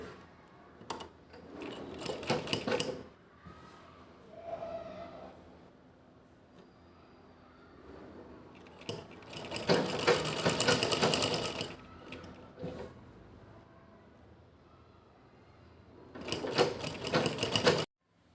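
A sewing machine stitches lace onto a table cover, with three loud runs of rapid mechanical whirring separated by quieter pauses filled with small handling noises, the longest burst in the middle.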